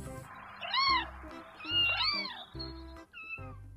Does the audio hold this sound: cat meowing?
yes